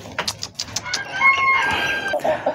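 A young black Sumatra jungle fowl rooster crows close by, a drawn-out strained call with bright tonal rises, set among short clucks and other bird noises from a busy poultry yard.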